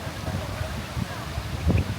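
Strong wind at a crowded beach in Boracay buffets the microphone in low rumbling gusts, a steady rushing roar that swells near the end, with no talk.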